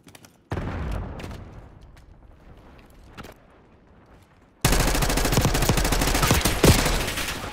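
Gunfire in the video game Call of Duty Black Ops 6, starting with scattered single shots and an explosion-like burst, then a sudden dense barrage of rapid automatic fire that continues loudly to the end.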